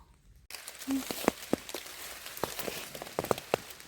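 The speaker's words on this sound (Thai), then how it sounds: "ฝนตก" Light rain falls in cold weather during mushroom foraging, heard as soft, scattered close patters and drips over a quiet background for a few seconds.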